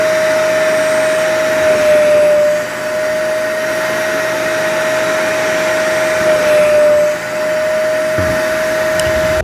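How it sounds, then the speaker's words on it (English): A vacuum cleaner motor whines steadily with a constant pitched tone, droning continuously and loudly close by, with slight swells in level. "Mommy has to vacuum"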